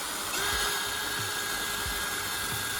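A power drill bores holes in metal for a homemade spiral potato cutter, giving a steady, high-pitched whine with a faint rhythmic thump under it, heard up close and without talk.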